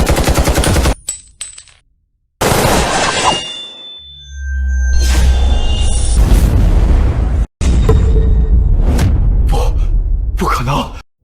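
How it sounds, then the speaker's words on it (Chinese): Staged gunfire in a dramatic fight scene comes as loud, rapid bursts of shots separated by short silences and a booming low drone, with sharp cracks and echoing blasts close up. "开枪！"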